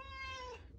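A cat gives a single drawn-out meow that slides downward in pitch, close and clear over a low steady background hum, with no talking.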